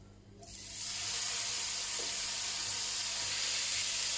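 Onions, garlic, ginger and chilies hit a hot pan and break into a loud, steady sizzle that swells within the first second and holds as a continuous bright hiss, with no voices.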